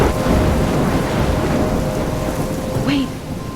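A thunderstorm in the video game Life is Strange, with heavy rain hissing steadily and a deep rolling rumble of thunder underneath, loud and continuous, with a faint brief voice near the end.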